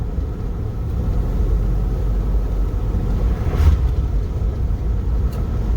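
A car with a rebuilt 4L60E automatic transmission drives along, giving a loud steady low rumble of engine and road noise from inside the cabin, with a slight swell midway and no talking.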